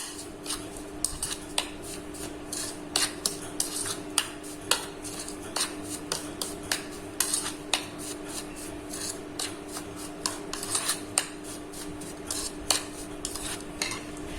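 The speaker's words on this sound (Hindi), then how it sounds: "अब इस मिश्रण को हम अच्छी तरीके से मिक्स कर लेंगे" A spoon scrapes and stirs chili pickle mixed with mustard seeds, salt and turmeric in a bowl, giving a steady run of sharp clinks and rubbing strokes with no talking.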